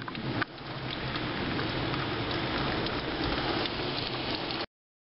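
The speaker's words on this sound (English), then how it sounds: "Well, it's not raining as hard now." Heavy rain falling during a flood on Storrow Drive in Boston, a dense continuous hiss of drops on surfaces, steady and close, after a brief thump at the start and before an abrupt cutoff.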